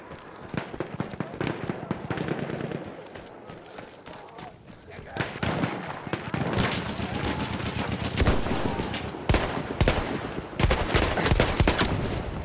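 Rapid bursts of video game gunfire, sharp repeated shots and volleys, loud and close, with excited talking over the action.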